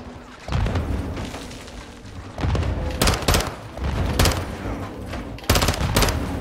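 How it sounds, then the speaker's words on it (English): Grenade launcher blasts and gunfire in the Modern Warfare 2 game, with heavy booms and rapid volleys over a continuous rumble, loud and dense, with no talking. "They're launching grenades."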